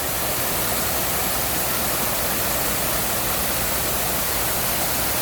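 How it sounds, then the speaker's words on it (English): An indoor waterfall at Gaylord Opryland Resort roars with a constant, loud wash of falling water, an even hiss with no breaks from start to finish. "take in the beautiful sound of the waterfall"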